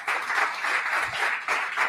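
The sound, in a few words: congregation applauding in church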